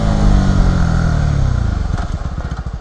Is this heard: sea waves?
no